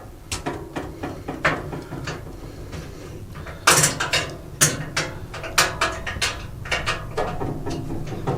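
Close metallic ratcheting clicks and clacks as a fitting is tightened inside a network equipment rack for an event network core, coming in irregular sharp bursts over a low hum.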